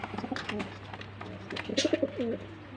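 Flying pigeons kept as a breeding pair coo at a farm, a few soft rolling calls near the end, faint against a low hum and light background noise with a voice nearby.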